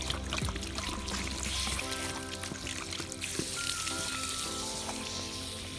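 Water poured from a can onto basil plants in an organic garden bed, a steady trickle and splash close by that runs for several seconds with faint outdoor ambience.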